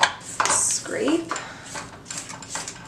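Cream cheese chocolate chip cookie dough with vanilla is scraped around a mixing bowl, giving close, uneven scraping and light clinking strokes of utensil against the bowl.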